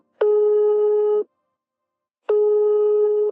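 Telephone ringback tone heard while calling a sales department, two long steady electronic beeps about a second each, separated by a two-second silence, clear and alone.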